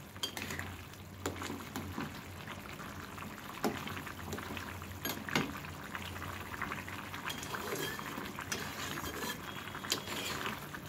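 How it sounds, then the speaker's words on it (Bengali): A bitter gourd and potato curry simmers in a pot as its gravy reduces, giving a steady, close bubbling and popping with occasional sharper pops and no speech. "আর একটু ঝোলটা কমিয়ে ফেলবো, তারপর নামিয়ে নেব।"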